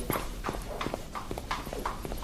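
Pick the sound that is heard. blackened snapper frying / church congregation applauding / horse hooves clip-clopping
horse hooves clip-clopping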